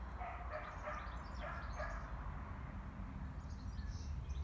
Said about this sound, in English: with that kind of dog barking